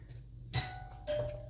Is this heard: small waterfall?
no